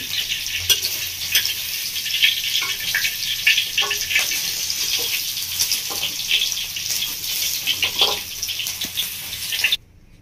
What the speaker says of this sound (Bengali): কালারটা হালকা করে একটু ভেজে নিয়েছি আমি এবার তুলে দিচ্ছি বেশি লাল লাল করে ভাজি নিই